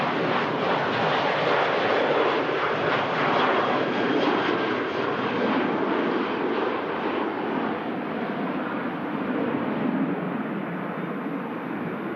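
A fixed-wing airliner on approach at Manchester Airport, a loud, steady broadband engine roar that stays close and constant for about twelve seconds, with no talk.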